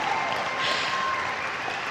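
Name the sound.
audience applause at live event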